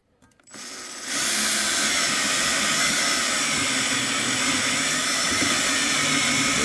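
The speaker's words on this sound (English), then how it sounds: "drilling down." Stepped drill bit boring down through a pilot hole while mounting an offroad light, a loud steady high-pitched whine that starts after a brief spin-up and holds continuously to the end.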